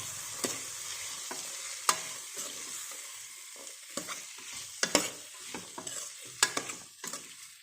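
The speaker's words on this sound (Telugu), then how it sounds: "ఇప్పుడు రాజ్మా వేసాను ఇలా కలిపేసుకోవాలి" Rajma kidney beans are stirred into a curry in a pan: quiet scraping and clinking strokes recur irregularly over a soft background sizzle.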